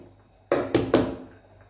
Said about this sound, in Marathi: त्याला टॅप करून घेऊया